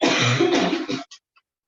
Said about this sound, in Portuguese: Eu ando com uma tosse.